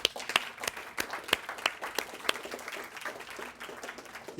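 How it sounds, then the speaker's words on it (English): Audience at a talk on curing hearing loss applauds, scattered claps with several distinct sharp hand strikes standing out over a softer background of clapping, fairly quiet and distant. "Let's give him a round of applause."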